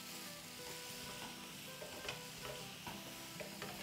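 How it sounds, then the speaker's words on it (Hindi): Malai tikka boti stir-fries in a pan to cook off leftover moisture, giving a steady close sizzle with scattered spoon scrapes and clinks against the pan. "और अगर आपके पास मॉइस्चर थोड़ा बचा है तो उसको आप थोड़ा सा भून के और ख़त्म कर दें"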